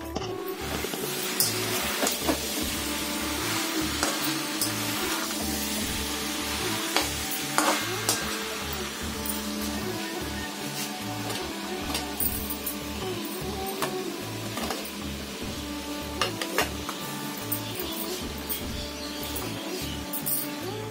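Jackfruit and potatoes cooking in a pan for a vegetarian Bengali dish, with a steady sizzle and frying hiss throughout, broken by repeated rhythmic stirring scrapes and occasional clinks.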